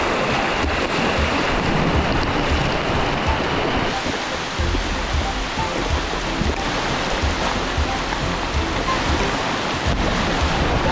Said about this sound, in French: C'est la pluie tropicale dans la jungle en plein rafting.